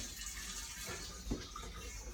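Hot water runs steadily from a tap while rinsing out wine-making equipment during re-racking, a continuous close, moderately loud splashing rush with one brief louder gush partway through.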